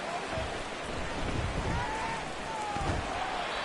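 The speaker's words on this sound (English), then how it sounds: "The rain set to continue as we are underway in the second half." Steady broadband rain falls through a Madden 24 NFL game between the Pittsburgh Steelers and Buffalo Bills, a constant hiss under faint commentary-like voices.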